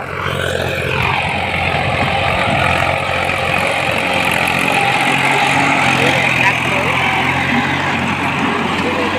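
Tractor fitted with a rotavator working a paddy field, a loud, steady engine drone close by that rises at the start and then holds an even rumbling roar throughout.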